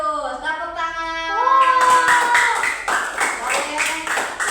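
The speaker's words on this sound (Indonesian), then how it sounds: "Tepuk tangan." A classroom of students claps hands in a rapid, rhythmic burst of near, fairly loud claps, starting under a sung or chanted voice and continuing over it.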